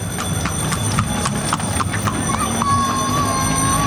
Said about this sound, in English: careful, horse. Gonna get run over by the horsey there.